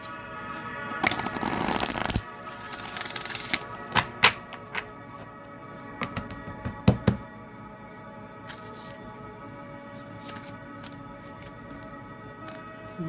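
Playing cards are riffled and shuffled in quick bursts, followed by soft taps and slaps of cards being handled on a table.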